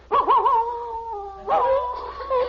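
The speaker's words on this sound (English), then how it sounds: "Just a dog howling at the moon." A dog howls at night, a wavering drawn-out howl followed by a second rising howl, fairly close and clear with no talk over it.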